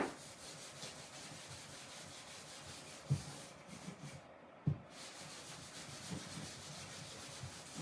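Clear wax being buffed onto a painted wood piece with an old cotton t-shirt, a soft continuous rubbing swish close by, broken by a couple of light knocks against the surface.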